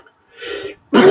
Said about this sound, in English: Had to sneeze.